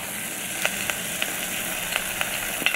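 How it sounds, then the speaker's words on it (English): Steady close-up sizzling of salmon cooking in an air fryer, a constant hiss broken by sharp little pops and crackles every half second or so, with no voices. "Listen to that sizzle."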